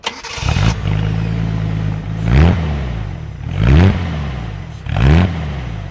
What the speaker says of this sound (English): I love the way the engine sounds